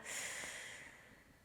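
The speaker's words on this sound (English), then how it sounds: "A slow, deep inhale." A single slow, deep breath is drawn in through the nose during yoga breathing, a close hissing airflow that is loudest at the start and gradually fades.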